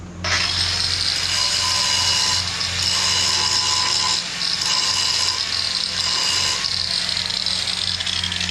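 A bench grinder squares up the tip of a hand-forged steel chisel, giving a steady, loud, continuous whine with brief dips where the tool is lifted and pressed back against the wheel, under a low constant motor hum.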